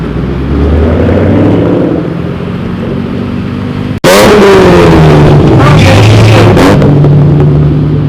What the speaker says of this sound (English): Who are you revving at?